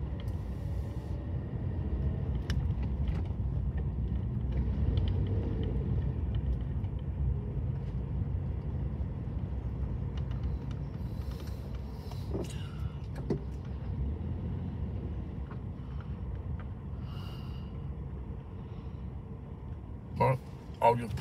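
A car's low engine rumble and road noise run steadily as it drives and pulls in to park, with a few brief knocks and clicks near the end as it settles.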